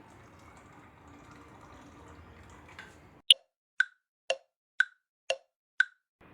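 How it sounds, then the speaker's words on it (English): Water added to a cooking pot comes as six crisp, evenly spaced plops after a quiet lead-in, each a short, close drop into liquid. "we're gonna add a bit of water."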